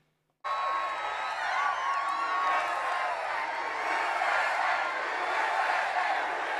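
Comedy club audience during a stand-up set, a loud sustained roar of cheering and crowd noise with whoops, starting abruptly and holding steady throughout.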